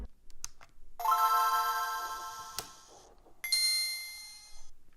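A bright Game Boy Advance startup chime rings out loud and clear through an upgraded speaker, followed by a second shorter chime, with small clicks before and between.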